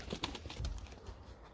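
Soft pigeon cooing with low throaty murmurs, close by, over a faint background hiss and a few brief chirps.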